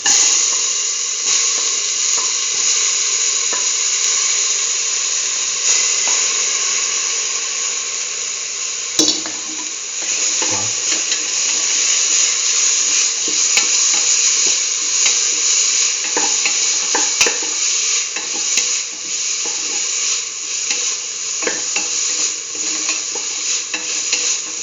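Tomato pieces sizzle loudly in a hot pan while being stirred for rice with cumin, a dense, continuous close frying hiss broken by scraping stir strokes.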